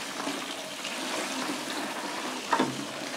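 Water runs steadily while hash resin is sieved, a soft continuous splashing flow, ending in a brief louder gush near the end.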